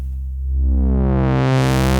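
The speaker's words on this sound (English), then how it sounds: "that is causing the filter cutoff to move up and down also" A sustained synthesizer tone with an arpeggiator-driven filter cutoff sweeping, the brightness opening upward over a couple of seconds, loud and steady with no voices.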